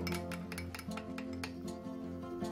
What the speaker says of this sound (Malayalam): നമുക്കിത് നന്നായിട്ടൊന്നുകൂടി മിക്സ് ചെയ്ത് കൊടുക്കാം